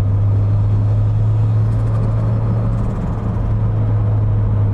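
A turbocharged Toyota MR2 fitted with a minivan engine runs steadily nearby, giving a loud, constant low drone with a whirring hum, alone and without talk.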